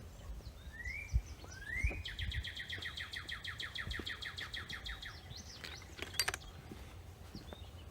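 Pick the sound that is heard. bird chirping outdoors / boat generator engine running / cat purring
bird chirping outdoors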